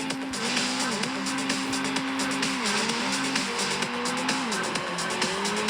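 Racing car in a video game, its engine note rising and falling through gear shifts with tire squeal and skidding, loud and steady throughout with no talking.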